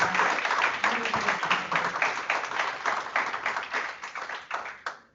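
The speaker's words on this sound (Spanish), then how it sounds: "Y pues un aplauso para la doctora Giselle Valverde." Audience applauding a guest speaker, Dr. Giselle Valverde, at a talk on artificial intelligence: a few seconds of dense, rhythmic clapping with distinct individual claps, fairly close, easing off at the end.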